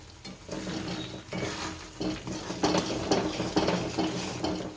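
A thick gum sweet mixture for gundar paak is stirred in a pan, with repeated close scraping and clacking strokes in an uneven rhythm over a soft sizzle.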